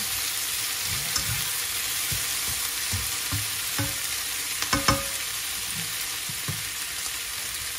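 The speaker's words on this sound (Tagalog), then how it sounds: "Pwede na natin magyan ng tubig." Water is poured into a cooking pot while making fish sinigang with tamarind, giving a steady hissing, sizzling wash with occasional clinks and light knocks of the pot, close up and without talk.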